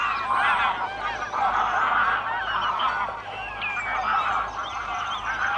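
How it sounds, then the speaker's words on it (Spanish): Greylag geese arriving at Doñana in autumn, a dense flock honking continuously and loudly, many overlapping calls filling the whole stretch without pause. "la llegada de los gansos o ánsares comunes"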